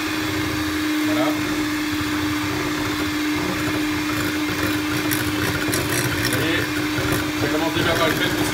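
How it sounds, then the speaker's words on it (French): Food processor whirring steadily at higher speed while emulsifying oil, a constant motor hum with a clear tone, with a person talking over it throughout. "j'accélère la vitesse du robot et je rajoute de l'huile"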